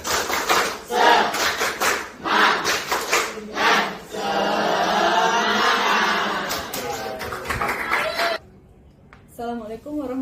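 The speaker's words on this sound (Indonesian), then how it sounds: "Tepuk semangat." A group of people at a school gathering give a spirited rhythmic clap in short bursts, then a sustained shout, followed by a brief quiet and some talking.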